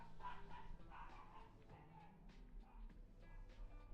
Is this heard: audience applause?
no